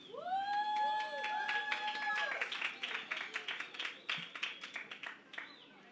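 An audience claps for a young reader after a children's picture book is read aloud at a family festival. Sustained, fairly close applause starts under a speaking voice and grows into clear, dense clapping.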